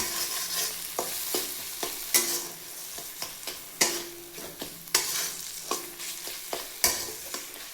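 A vegetable stuffing for ash gourd, cooked with sauce, sizzles softly in a pan while a spatula stirs it in repeated sharp scrapes and taps at a brisk, uneven rhythm.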